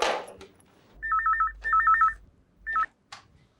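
A telephone rings in three short trilling bursts, the last one cut off, in a quiet indoor scene from a Hindi TV drama serial, with no voices over the rings.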